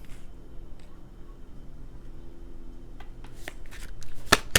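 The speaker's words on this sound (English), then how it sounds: "Let's pull two more cards." Tarot cards are pulled and shuffled from a deck close up, with soft papery slides building to a few sharp flicks and snaps near the end.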